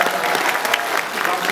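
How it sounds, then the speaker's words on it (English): Audience at a Bruce Campbell Q&A during Wizard World Philadelphia 2012 Comic Con applauds steadily, a dense roar of clapping that holds at an even level throughout. "you're going to give me another round of applause"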